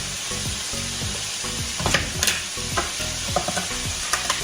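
Garlic cloves drop into a hot pan of sizzling oil during a bistec ranchero cook, a steady loud fry with pulsing stir scrapes and a few sharp crackles and pops.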